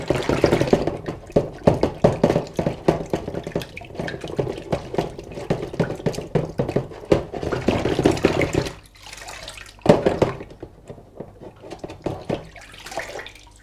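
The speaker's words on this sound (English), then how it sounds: "So now we need to rinse it off in some clean fresh water." Clean tap water runs while a sink waste fitting is rinsed, giving close, uneven splashing and gushing with irregular bursts and a brief lull near the end.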